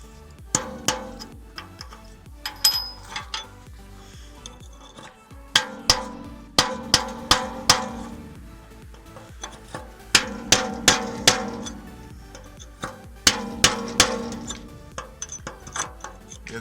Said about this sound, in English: You can hammer it out.